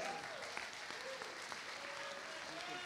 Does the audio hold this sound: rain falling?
no